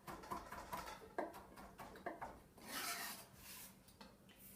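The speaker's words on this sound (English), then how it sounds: "I'm going to mince it just a little bit finer." Knife mincing citrus rind on a cutting board, a run of soft scraping and tapping strokes, close but very faint, with no talking.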